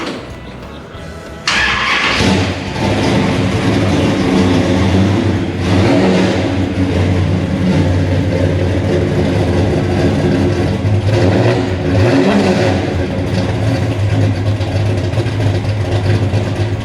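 A black Plymouth Hemi Cuda muscle car cranks briefly, fires up with a loud burst, then settles into a heavy, loping idle punctuated by several throttle blips close to the listener.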